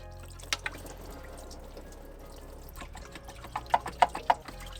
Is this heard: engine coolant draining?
yes